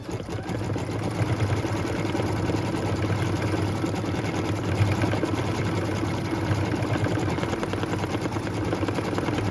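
An embroidery sewing machine stitches a flower placement line in white thread on felt, a loud, continuous rapid mechanical whir with a fast needle rhythm throughout and no talking.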